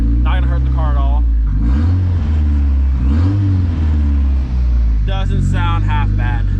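Cold VW Golf 3 with a swapped 1.8T engine blipped with several light throttle taps, a deep close rumble that briefly swells and settles, with someone talking over it.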